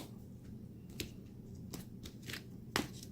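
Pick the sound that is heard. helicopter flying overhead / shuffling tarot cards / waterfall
shuffling tarot cards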